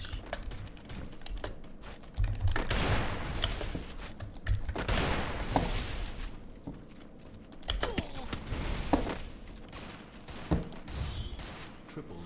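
Gunfire in the mobile battle royale game Free Fire comes in several rapid bursts, mixed with close clattering keyboard typing and a brief voice.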